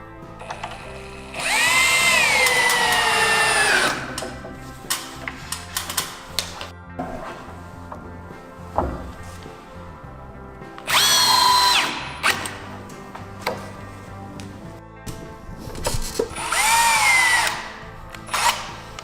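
Power drill whirring in repeated bursts as screws are driven into the trim board of a flat-roof garden shed, loud and close, with the motor rising and falling between short pauses.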